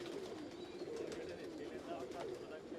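Tamam breed pigeons kept for sale coo softly somewhere in the background, barely audible under someone speaking close to the recorder, along with general handling noise.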